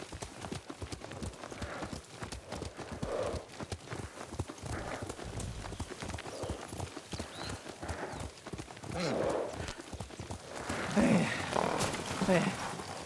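Horse hooves clip-clopping at a steady gait during riding in the video game Ghost of Tsushima, a rhythmic stream of hoofbeats with a soft whinny near the end, heard under intermittent talk.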